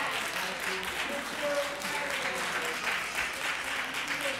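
Steady audience applause fills a council meeting chamber, a dense continuous patter of many hands clapping at even loudness for several seconds with no pause.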